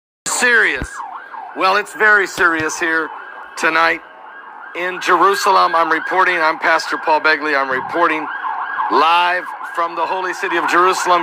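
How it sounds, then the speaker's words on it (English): Emergency sirens wail at night in Jerusalem, a sustained tone running steadily beneath a man's loud, continuous speech in the foreground. "You can hear the sirens in the background."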